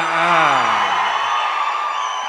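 A crowd of fans at a Telugu film pre-release event whoops and shouts loudly, a sustained roar of cheering with rising and falling yells across the whole moment.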